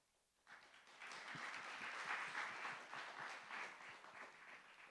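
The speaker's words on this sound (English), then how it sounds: "Another huge round of applause to all our sponsors." An audience applauds at a university AI hackathon closing ceremony, the clapping bursting in after a quiet moment and holding steady as a dense, moderately loud crowd sound.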